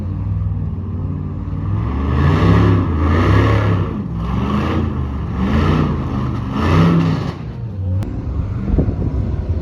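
A 4400 Unlimited off-road race car passes close by, its loud engine revving and surging in repeated waves before the roar drops away toward the end.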